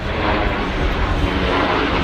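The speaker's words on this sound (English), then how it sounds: "there's an airplane." An airplane passing overhead makes a loud, continuous broadband roar that holds steady throughout the short stretch, with no speech over it.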